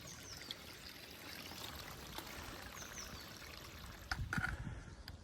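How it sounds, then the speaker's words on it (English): Water runs steadily along a mine drainage channel, or sough, in an old mining village, a constant low rushing flow with a brief louder splash near the end. "The drainage channel or sough is just there."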